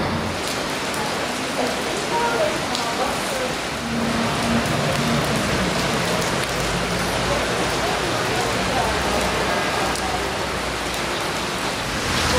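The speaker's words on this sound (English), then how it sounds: "It's raining today." Steady rain hisses loudly and continuously in Bologna, Italy, with a faint hum of traffic beneath it.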